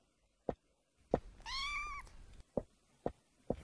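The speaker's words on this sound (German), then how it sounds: "Hier ist eine Katze." A cat in the Minetest video game gives one clear, drawn-out meow, framed by several short, sharp taps before and after, with no talking.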